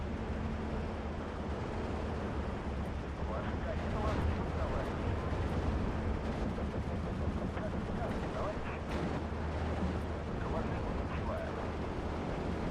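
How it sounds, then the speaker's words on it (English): Artillery bombardment in the WW2 real-time strategy game Steel Division 2, heard as a steady dense wash of distant booms and crackling gunfire, with someone talking over it. "Bombing the one that's entrenched."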